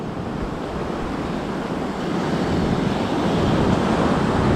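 Ocean surf washes onto a sandy beach in a continuous broad roar, swelling slightly louder toward the end, with some wind buffeting the microphone.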